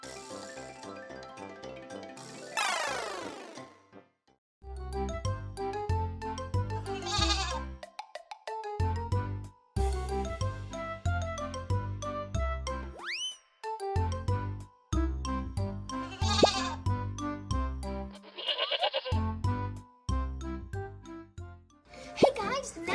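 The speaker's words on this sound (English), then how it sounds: "Today we are in Brazil with some goats." Goats bleating on a farm in Mampituba, Rio Grande do Sul, Brazil: several loud, wavering bleats come in separate bursts over a busy, music-like background.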